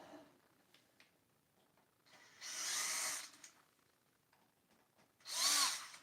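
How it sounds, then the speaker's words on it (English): Two bursts of a power drill whirring while working on a Kawasaki KX250 dirt bike, each a couple of seconds long and separated by quieter handling noises, fairly close. "I can use the drill now."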